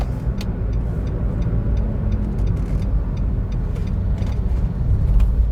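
A Nissan Micra with a CVT automatic accelerates, giving a steady, loud low engine and road rumble that holds evenly throughout with faint ticking on top.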